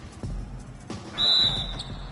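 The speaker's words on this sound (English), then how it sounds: "So the whistle blows on the shot" In a basketball video game, a referee's whistle gives one sharp, shrill blast after a couple of ball bounces and court sounds, loud and near, with a short second chirp.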